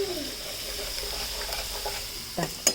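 Asafoetida (hing) dropped into hot oil in a home kitchen while making pithla, giving a steady close sizzle and fry hiss that flares briefly near the end with a couple of sharper crackles.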